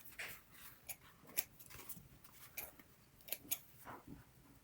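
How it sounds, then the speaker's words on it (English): Quiet, close snips of scissors trimming threads off a sewn fabric face mask, several short crisp cuts at an irregular pace with soft rustling between them. "take your scissors and trim off any little threads"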